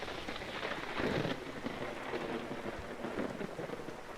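Steady heavy rain patters on leaves in the video game Vintage Story, a dense continuous hiss with a low rumble swelling briefly, close and loud with no voices.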